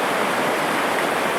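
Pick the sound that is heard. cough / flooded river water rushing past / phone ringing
flooded river water rushing past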